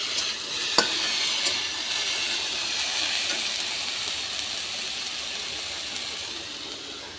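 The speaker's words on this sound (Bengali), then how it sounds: "এবার এটাকে আমি একটু ভাজা ভাজা করবো।" Mixed vegetables with kulekhara and telakucha leaves fry in a pan for a light shukto, a steady close hiss of sizzling oil with occasional scrapes of stirring, continuous throughout with no talk.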